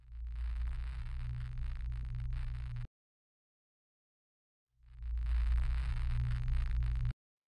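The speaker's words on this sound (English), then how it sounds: "it's this sort of atmospheric noise sample" A granulated atmospheric noise sample from a synth plays in two hissing, textured bursts with a rumbling low end, divided by about two seconds of silence.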